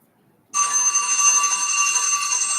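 A quiz buzzer bell starts abruptly after a short silence, then rings continuously and loudly as a bright, sustained metallic tone with no talking.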